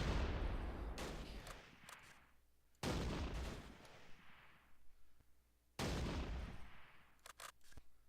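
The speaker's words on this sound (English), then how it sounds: "Come on, Civil War cannon, let him have it." Cannon fire in the WWII strategy game Close Combat: Last Stand Arnhem: three loud, close booms about three seconds apart, each with a long rumbling decay, with sharp smaller cracks of gunfire between them.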